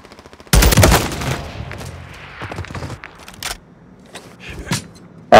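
Rapid bursts of gunfire from a gun in the Call of Duty MW3 video game, loud and close, sounding in short clustered volleys with brief gaps and a final sharp burst at the end.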